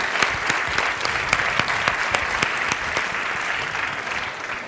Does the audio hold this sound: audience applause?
yes